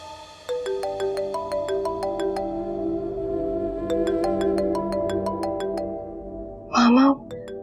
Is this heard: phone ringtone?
yes